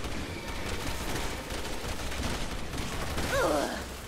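Gunfire in the co-op video game Resident Evil 6, faint rapid bursts of shots under a busy game soundscape, with a brief synthetic warble toward the end.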